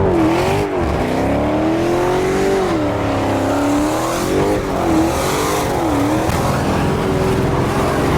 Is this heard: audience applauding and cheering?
no